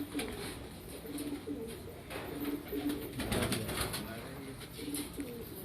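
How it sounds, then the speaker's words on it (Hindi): Kalpoti pigeons, a spotted breed from the Sindh region kept in a loft, coo in soft repeated low phrases against a steady hiss of background noise, moderately near and fairly faint. "कलपोटी कबूतर आपको दिखा रहे हैं जी।"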